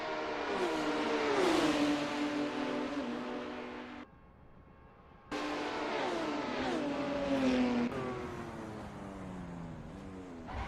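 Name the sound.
race cars at Daytona Oval, Porsche, in a racing video game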